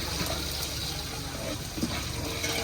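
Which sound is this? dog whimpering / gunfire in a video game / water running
water running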